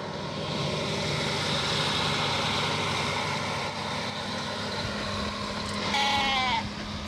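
Sheep bleat now and then from inside a livestock truck in outback Queensland over a constant low engine rumble, with one louder, wavering bleat near the end.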